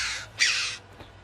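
A crow in a kids' farm cartoon gives two harsh, raspy caws in quick succession, loud and close, followed by a faint trailing sound.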